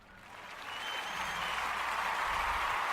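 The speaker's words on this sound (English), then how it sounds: "So, cue the applause real quick." A recorded applause effect on a podcast swells from quiet to a full, steady round of clapping and cheering, sustained to the end with no talking over it.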